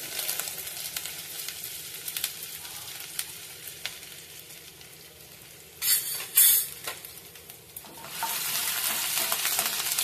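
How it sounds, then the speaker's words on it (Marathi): Finely chopped garlic and ginger pieces frying in hot oil in a pan: a continuous close sizzle with a couple of sharp stirring clatters, swelling louder toward the end, no talking. "हे चांगले लाल होईपर्यंत परतून घेऊया आपण"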